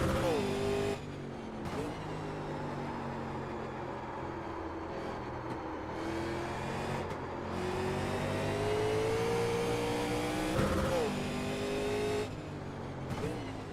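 A race car engine in the iRacing sim holds a steady, loud drone through the gears, its pitch stepping up and down with shifts and rev changes, while someone talks over it throughout.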